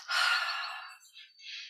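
Two strong breaths during a guided meditation exercise, a long breathy exhale followed by a shorter, softer second breath, close to the microphone and alone.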